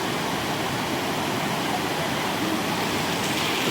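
A waterfall on the East Sikkim Silk Route, water falling from above and flowing away, makes a loud, dense, unbroken broadband roar that stays steady throughout with no pauses.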